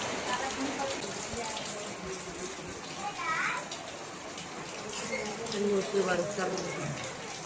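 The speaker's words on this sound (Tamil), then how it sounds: "மறுபடியும் மழை வந்துருச்சுங்க." Steady rain falls continuously in Odisha, India, a dense wash of patter, with faint voices and background activity mixed underneath.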